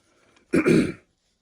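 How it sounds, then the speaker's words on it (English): One short, rough throat clearing, close and fairly loud, in an otherwise quiet moment. "can't clear my throat."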